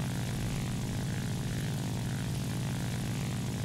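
Ki-100 propeller fighter engine in the War Thunder flight game, a steady loud droning roar with a constant throbbing low buzz throughout, no talk.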